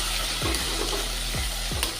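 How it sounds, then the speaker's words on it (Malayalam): Small shallots are stirred and sautéed in a pan for an onion curry, with a steady sizzle and a few distinct scraping strokes of the spoon close by, and no talking. "ഇനി നമ്മൾ ചെറിയ ഉള്ളി കൊടുക്കാം. അതിലേക്ക് ഇട്ട് കൊടുത്ത് നന്നായിട്ട് മിക്സ് ചെയ്യുക."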